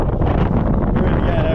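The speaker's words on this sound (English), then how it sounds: "It's quite windy." Wind buffets the microphone in a low, constant roar for a brief moment aboard a cruise ship, with no clear voices over it.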